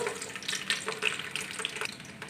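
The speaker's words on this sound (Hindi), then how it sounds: "2 प्याज डालेंगे कटे हुए" Chopped onions, two of them, hit about half a cup of hot oil in a cooking pot and fry with a steady, dense sizzle that carries on without a break, close and fairly loud.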